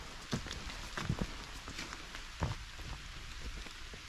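Rain drips off trees onto a foggy woodland trail, scattered soft taps and a few sharper drops over a quiet, steady background hiss.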